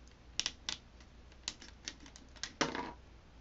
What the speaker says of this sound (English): we're going to grab this part of the arm, rotate this, fold this bit back